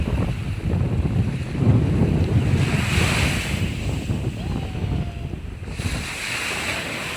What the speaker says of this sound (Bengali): কি ঢেউ